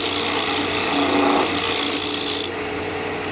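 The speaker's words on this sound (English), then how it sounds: "I'm rubbing that bevel and just tuning it on just a little bitty bit." Steady abrasive rasping of a woodturning gouge bevel being rubbed and honed on a sharpening surface, close and continuous, easing to a slightly lighter stroke near the end; cocobolo turning work.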